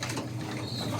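Pigeons kept by a fancier coo low and soft in a loft, a steady murmur with faint background hum and no talk.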